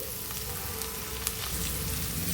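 Boiled thammakaya beans fry in oil with onions, giving a steady close hiss and crackle with faint stirring clicks.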